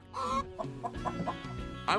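A chicken clucks close by in a short series of sharp, choppy calls, with a louder squawk near the end.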